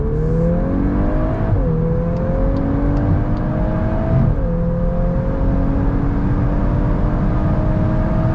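A 2024 BMW M2 pulls away hard from a start, its engine note climbing steadily through the gears with brief dips at each shift, loud and close from inside the cabin, no talking.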